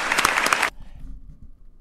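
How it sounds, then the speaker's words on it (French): A short burst of loud clapping from a crowd, cutting off abruptly into near silence with a faint low rumble. "Elle se fait applaudir."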